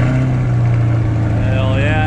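A Chevrolet C8 Corvette's mid-mounted LT2 V8 with the NVP exhaust hums at a steady, loud, low idle, close by, while a voice talks over it.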